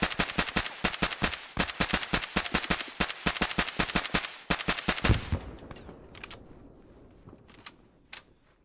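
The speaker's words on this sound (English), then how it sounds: "I'm getting shot by a bunch of guys outside" Rapid automatic gunfire in the Arma 3 war game, a dense string of sharp, loud bursts for about five seconds before stopping and leaving a fading echo and low rumble.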